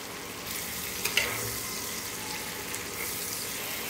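Onion and chili fry in hot oil with a continuous close hiss and sizzle, broken by a couple of brief clinks from a utensil near the start.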